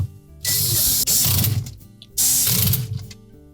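A ratchet drives screws into the drain cover of a Whirlpool dishwasher: two close, loud bursts of rapid clicking separated by a short pause.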